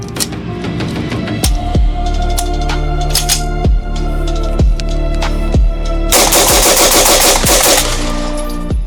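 A Romanian AK rifle fitted with a Nova Modul fires a series of loud, close single shots at a steady pace, followed by a faster burst of cracks toward the end.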